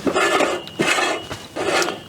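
A camping cookware pot and its lid are handled, with three metallic clanks and scrapes spaced about a second apart, close and fairly loud.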